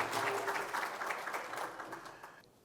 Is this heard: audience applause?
yes